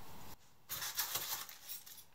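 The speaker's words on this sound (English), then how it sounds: "Some hex keys are included." Small metal hex keys included with a compound bow clink and jingle briefly up close, a short cluster of bright chinks after a moment of near silence.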